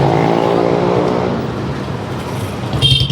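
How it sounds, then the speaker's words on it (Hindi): Loud motorcycles with noisy, modified exhaust silencers on the road to Neelkanth near Rishikesh, a close, roaring engine rumble that swells, then fades as the bikes pass. "अब ये देखो बाइक कितना नॉइज पोल्यूशन करती है, कान फाड़"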